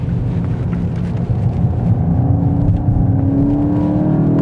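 A Volkswagen Golf's engine drones steadily as it climbs a steep mountain switchback road, a loud close whir with a gradually rising pitch and no talk.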